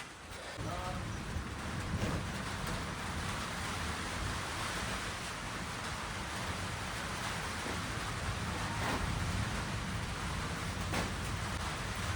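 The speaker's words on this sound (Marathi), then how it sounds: "पाऊस पडायला लागलाय" Rain falling outdoors over a farmyard: a steady, broad hiss of rain with gusty wind, continuous and fairly loud, with a few brief knocks and rustles and no clear talk.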